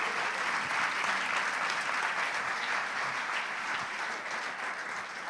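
A church congregation applauds during a Sunday celebration service, a sustained, full roar of clapping that holds steady for several seconds and tapers slightly at the end.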